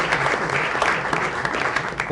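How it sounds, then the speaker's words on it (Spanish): Audience applause at the presentation of a classical theatre play, Catilina, as a loud, steady wash of clapping that fills the whole stretch with continuous dense hand claps. "un fuerte aplauso para híbrida, el gran actor."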